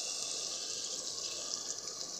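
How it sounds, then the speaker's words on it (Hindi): Water, partly the cooking water from boiled chickpeas, pours steadily into a pot of chickpea pulao with yogurt, a continuous soft splashing stream heard close and quietly, with no talk. "अब मैं इसमें पानी डालूँगी"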